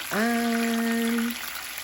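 Food fries in a pan with a continuous close sizzle, while a steady humming tone rises in briefly and sounds over the sizzle for about a second before dropping away.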